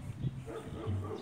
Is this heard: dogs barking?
yes